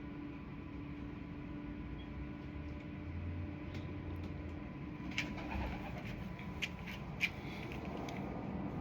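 A homing racing pigeon returning from a race coos softly in a loft, low murmuring calls set against steady background hum, with a few faint clicks and taps near the end.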